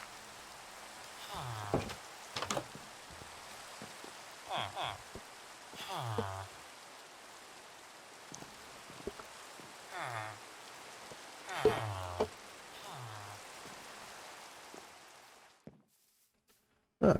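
Steady, quiet rain from the Minecraft 1.18 survival game forms a faint hiss throughout, with several brief, low, muffled sounds scattered over it, and then it cuts off near the end.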